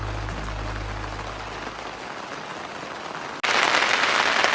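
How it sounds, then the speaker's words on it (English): Rain and hail pelt the fabric of a tent during a mountain storm in Colorado, making a steady hiss of drops that suddenly swells into a louder, harsher downpour near the end. "just got in the tent before it started to rain and hail."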